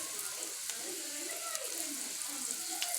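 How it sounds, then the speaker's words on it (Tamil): Nendran banana slices fry gently in ghee, a faint, soft sizzle with light crackles and scattered small pops, quiet and close, with no talking. "இது எதுக்காக நெய்யில் போட்டு நல்லா ஃப்ரை பண்ணுறேன்னா"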